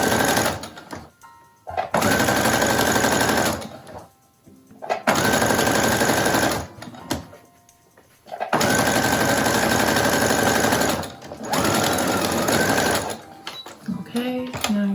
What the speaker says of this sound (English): Don't forget to reverse your stitch.